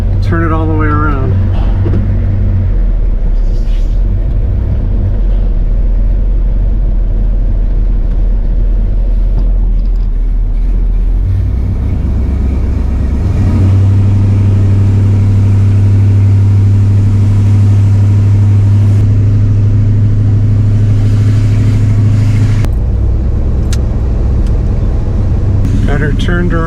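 A Jeep TJ with an ignition fault idles and drives slowly as it turns around on a residential court. Its steady low engine rumble is loud and close and rises in a stronger revving stretch midway.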